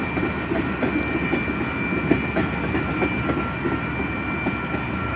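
A Union Pacific manifest freight train rolls past a road crossing, with continuous rumble and rhythmic clickety-clack of wagon wheels and a steady high-pitched tone, loud and near, no voices.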